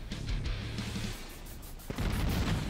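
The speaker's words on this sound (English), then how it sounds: "Everything exploding in the bridge." Explosions rip across a bridge in the helicopter game Thunder Wolves, a rumbling wash of blasts that dips midway, then a sharp burst kicks off fresh booming.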